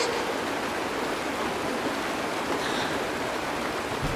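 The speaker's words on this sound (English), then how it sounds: "It's raining!" Steady rainfall in the video game Honkai Star Rail, an even broadband hiss of rain that stays constant and fairly loud throughout with no voices over it.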